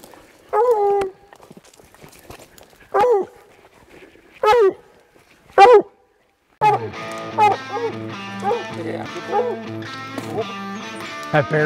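Hunting hound on an Idaho bear hunt gives four separate loud bark-whimper bursts with pauses between, then a dense run of overlapping howls and whines to the end.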